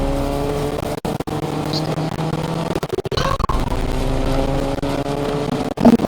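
A car engine roars and revs as the car drifts in the video game Fortnite, a steady loud drone with brief dropouts and shifting pitch, a voice occasionally speaking over it.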